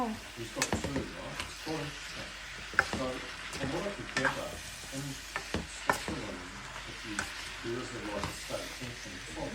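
Water hits a hot pan of stir-fried vegetables and shrimp, setting off a loud, steady sizzle with scraping stirs and spatula clinks, while someone talks over it now and then.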